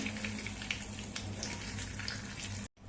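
Mustard seeds, cumin, curry leaves and asafoetida sizzle in hot oil, a tempering for khasta pattis filling, producing a dense steady hiss with small pops. The sound stays close and even, then cuts off abruptly near the end.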